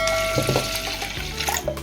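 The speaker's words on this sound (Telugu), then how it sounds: "దీంట్లో కొంచెం తక్కువగా కందిపప్పు తీసుకున్నానండి అవి కడుగుదాం శుభ్రంగా" Toor dal being rinsed in water, with close splashing and sloshing in a bowl or sink, a steady wet wash with a few brighter splashes.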